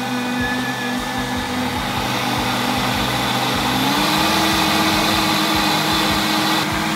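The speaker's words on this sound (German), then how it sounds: "Hört ihr, was der Mixer für eine Musik macht?" A kitchen blender runs steadily, mixing a smoothie with a loud continuous whir whose pitch shifts slightly partway through, heard alone with no talking.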